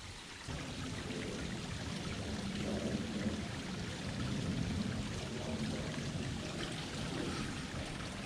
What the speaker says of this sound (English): You can hear the water, but can't even see it.